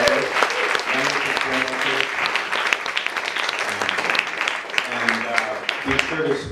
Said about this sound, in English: How about a round of applause for these wonderful artists, wonderful